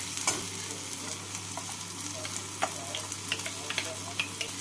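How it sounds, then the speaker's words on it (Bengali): Spice paste frying with chopped onion and tomato in a pan for a tangra fish curry with brinjal and potato, a steady low sizzle with soft stirring scrapes and occasional clicks, close and fairly quiet, no talking. "পেঁয়াজ টমেটোর সাথে মশলাটাকে কষিয়ে নেব।"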